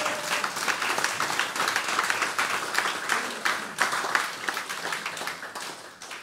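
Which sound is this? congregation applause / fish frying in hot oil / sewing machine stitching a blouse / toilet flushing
congregation applause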